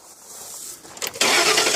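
A 2008 Ford F150 4.6L Triton V8 starts up close by: a short cranking whir, then the engine catches with a loud burst and settles into a steady idle.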